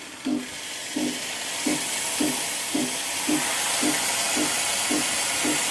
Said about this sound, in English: So now let's steam the milk and complete the milk-based drink that we want to do.